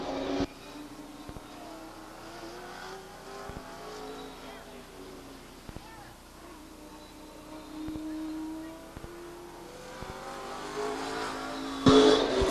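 Number 95 race car on the Stockton 99 Speedway oval, its engine droning and rising as it laps, fairly distant, with an announcer's voice over the track noise and a louder swell near the end.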